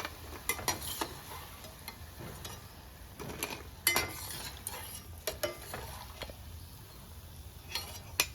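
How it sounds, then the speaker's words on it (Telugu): Bajji fritters frying in oil, a soft bubbling sizzle broken by light clinks and scrapes of a utensil stirring, quiet and close with scattered sharper taps. "సోడా వేసుకొని మంచిగా ఫ్రై చేసుకోవాలి."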